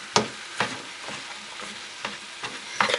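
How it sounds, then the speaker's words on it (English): Ketchup-covered rice stirred in a frying pan for omurice: repeated scraping strokes of a utensil against the pan, roughly every half second, over a steady soft sizzle, close and alone. "I put rice in the pan for omurice and then I completely cover it with ketchup"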